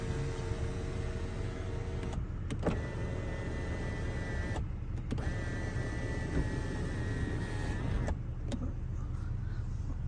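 Moonroof motor of a 1997 Toyota Crown Royal Saloon tilting, lowering and sliding open: a steady electric whine in three separate runs split by short clicks of the button and pauses, close inside the quiet cabin; no talking.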